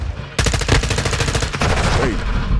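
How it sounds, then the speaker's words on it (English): Rapid automatic gunfire in the Modern Warfare 2 beta video game, loud and close, a fast rattling burst of shots that breaks off briefly and then resumes with more shooting. "She didn't even pull it all the way out before she started shooting."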